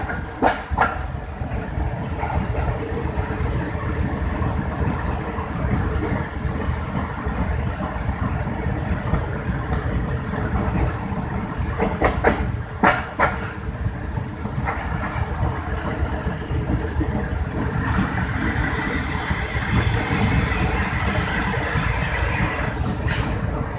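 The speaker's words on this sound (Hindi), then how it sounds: "अब ट्रेन यहाँ पे स्टॉप करेगी।" A passenger train on a railway line halted at a red signal, its locomotive engine idling with a steady, loud rumbling drone and a few brief higher clanks and hisses, no voices.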